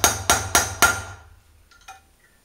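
Four sharp, evenly spaced hammer blows drive a front wheel bearing into the hub of a Honda CB500, each strike ringing briefly before the last fades into a few light metallic taps.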